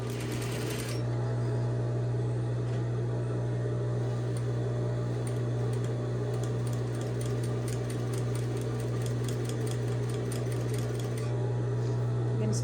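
Sewing machine stitching a tote bag seam with backstitching, a loud steady motor hum with rapid rhythmic needle clatter running continuously after a brief start, close and alone.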